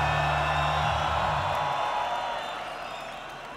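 A big festival crowd at the Roskilde Festival concert in Denmark roars and cheers in a dense, continuous wash that slowly eases off.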